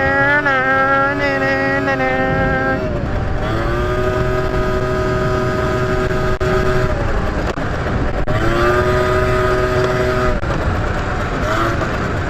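Motorcycles accelerate along a bumpy country road. The engines whine and climb through the gears in a loud, continuous rising drone, with wind rush close to the riders.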